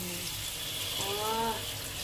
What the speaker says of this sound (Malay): lepas tu kita letak air